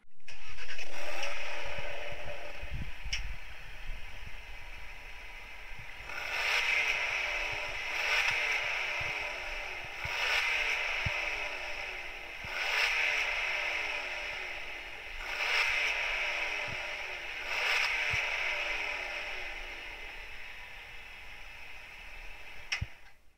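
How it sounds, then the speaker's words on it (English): Engine of the new Audi RS3, starting up and then revving in repeated bursts roughly every two to three seconds. Each rise is loud and clear and alone, with no talk over it. "along with the sound actually of the new RS3, which I thought was quite cool that Audi added on their website"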